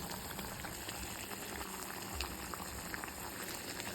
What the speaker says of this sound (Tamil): போட்டுட்டு ஒரு 5 மினிட்ஸ் கொதிக்கட்டும்